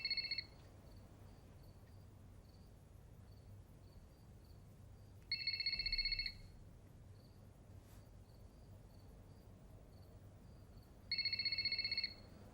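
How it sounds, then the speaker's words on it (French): A telephone rings in three separate bursts of bright electronic trilling, spaced several seconds apart, clear against a quiet room with a low steady hum between rings. "Ne décroche pas le téléphone."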